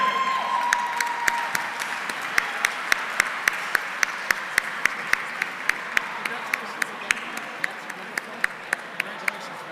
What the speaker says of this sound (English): Put your hands together.